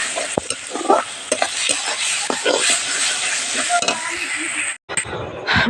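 Water lily stems cooking with crab in a pan, stirred with a utensil over a loud continuous sizzle, scraping strokes and light clinks repeating, close up, with a brief break near the end.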